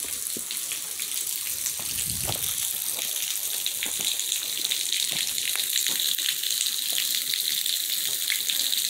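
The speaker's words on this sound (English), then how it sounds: "Waterfall, like out of rain season right now. It's barely going dripping." Thin trickle of a small forest waterfall in the dry season, scattered drips and splashes, steady and fairly close, no voices.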